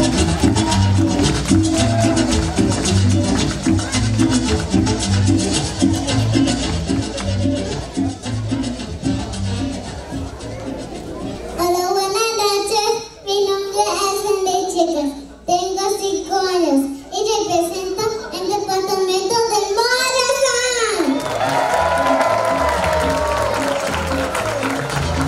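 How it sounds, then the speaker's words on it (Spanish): A crowd at a children's presentation claps loudly for about ten seconds, with cheering mixed in. The applause is framed before and after by a voice talking through amplified sound. "¡Fuerte el aplauso!"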